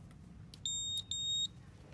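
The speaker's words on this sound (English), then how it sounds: "So let's put the dummy beep on." Continuity tester beeps twice in quick succession while checking a shorted compressor from an ICP AC unit for a short to ground; the two sharp, high electronic tones are close and clear over a low background hum.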